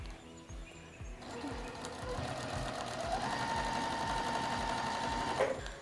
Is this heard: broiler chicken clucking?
no